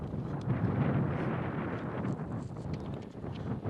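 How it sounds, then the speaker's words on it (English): Steady low rumbling buffeting from wind blowing across a microphone at an outdoor high school softball game, constant and fairly loud throughout with no clear talk. "it's quite windy out here today, so we're getting quite the breeze."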